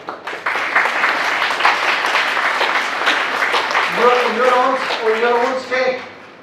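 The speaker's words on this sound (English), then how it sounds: "Clap again." Audience applause fills a university lecture hall at a law school orientation lecture, a steady wash of clapping that continues under someone speaking toward the end before fading.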